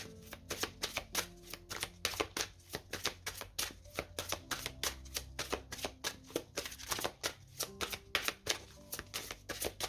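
Tarot cards are shuffled by hand in a steady run of quick, crisp riffling slaps, close and fairly loud with no speech over them.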